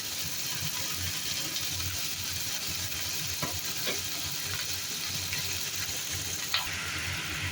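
Tomato fries in hot oil for chana dal, with a steady sizzle up close and a few light scrapes and taps of a spatula stirring in the pan.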